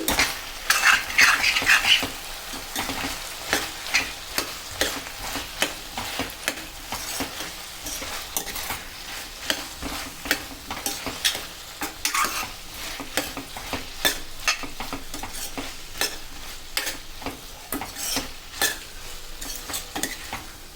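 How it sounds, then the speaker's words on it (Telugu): Tomato pieces are stirred into a potato and capsicum curry frying in a pan, giving a steady close sizzle with frequent spoon scrapes and clinks against the pan throughout, no voices. "నెక్స్ట్ ఇందులోకి టమాటా ముక్కలు వేసుకోండి మంచిగా మిక్స్ చేసుకోండి"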